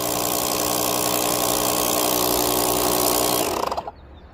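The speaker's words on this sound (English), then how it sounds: "And then I could literally click pump. Hold the pump button down." A Lokithor AW401 jump pack with a built-in tire inflator pump runs as a loud, steady motor drone close by, then winds down and stops near the end.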